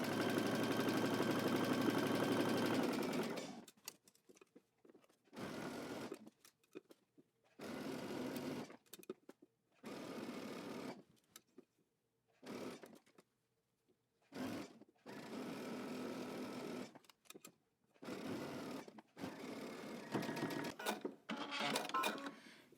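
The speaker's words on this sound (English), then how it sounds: "we're going to stitch using 3/8 of an inch seam allowance" A sewing machine stitching a dress seam at a 3/8-inch seam allowance, running in several steady whirring bursts separated by short silent pauses, close and clear.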